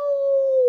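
A puppy howls on a walk, one sustained, steady high-pitched note held close to the microphone for under a second with no talk over it.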